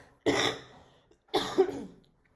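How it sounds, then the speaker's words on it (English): Two separate coughs, close and fairly loud, the second slightly rougher, with a short quiet gap between them. "I have this cough"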